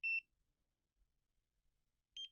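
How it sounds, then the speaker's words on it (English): Two short, bright electronic beeps from a skin care device, one at the start and one at the end, separated by near silence; the tones are clear and close. "It's a beep at the beginning and a beep at the end."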